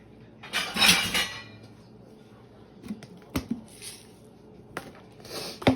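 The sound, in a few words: breading pork chops in panko, egg and flour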